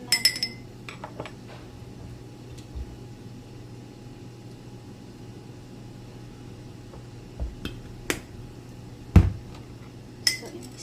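A spoon stirs adobo sauce with spring onion in a pan, giving sparse, faint metallic clinks and taps over a quiet kitchen background.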